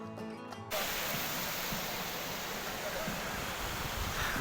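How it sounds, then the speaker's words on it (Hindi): The glacier-fed Mandakini river near Kedarnath rushes loudly and continuously, a dense broadband roar of fast water heard up close after a brief quieter moment. "यह है मंदाकिनी नदी जो केदारनाथ के पीछे वाले ग्लेशियर से आती है"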